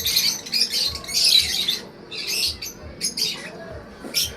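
Several birds squawk and chirp in bursts, close and busy, with short harsh calls scattered throughout.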